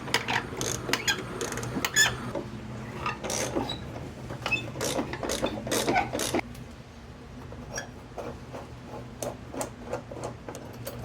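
A ratchet wrench working a 7/8 nut loose on a Pentair pool cartridge filter, giving rapid close clicking bursts in short runs, louder at first and then lighter, sparser ticks.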